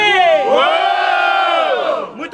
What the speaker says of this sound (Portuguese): barulhos, barulhos pra quem gostou das rimas do Ricardinho